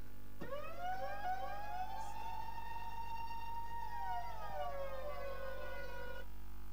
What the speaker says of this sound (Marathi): आता मात्र सायरन वाजला जाईल